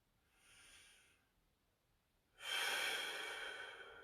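Slow, deep breaths during a full-body static stretch held in a back twist: a soft, faint inhale, a pause, then a much louder, airy exhale that swells and fades gradually.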